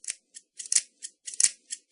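A pair of scissors cuts red paper for handmade poppies in a steady run of about nine crisp, close snips with short pauses between them.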